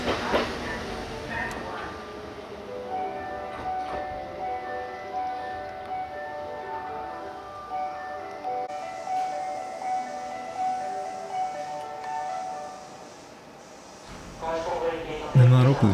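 A Kintetsu Osaka Line local train pulls away from Tsuruhashi Station, its traction motors rising in a steady, sustained whine through the middle of the clip, with station noise and a brief loud burst near the end.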